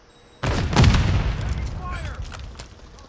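Grenade blasts and bursts of gunfire ring out in a multiplayer shooter match: a sudden loud boom, then a rolling volley of shots fading into scattered fire, with voices calling out over the fighting.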